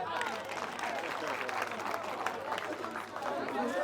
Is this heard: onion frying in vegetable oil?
no